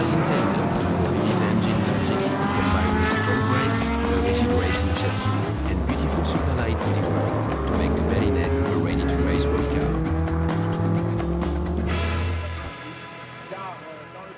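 Renault Alpine A110 race cars lapping a circuit during the Tour Auto, engines roaring loud and continuous with revving shifts and a tire squeal, under steady music, fading near the end.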